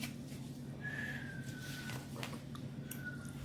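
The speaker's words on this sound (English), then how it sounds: "I can whistle." A person whistling indoors at dinner time, two short sliding notes, the first longer and the second brief, faint over a low background hum.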